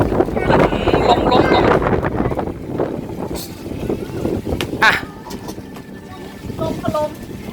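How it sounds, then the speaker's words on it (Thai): Strong storm wind gusts across open rice fields, roaring loud and steady as it buffets the microphone, with people talking and exclaiming over it throughout. "ลม"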